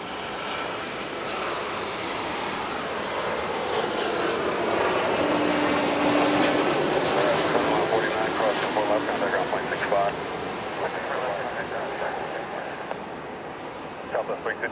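A jet airliner passes at LAX, a loud broadband engine roar that builds, peaks around the middle and slowly fades, with brief radio or voice chatter in the background.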